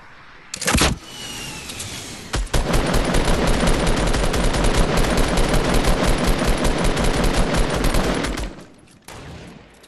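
Sustained rapid automatic gunfire in the video game Fortnite, loud and continuous for several seconds after a couple of single shots, then cutting off.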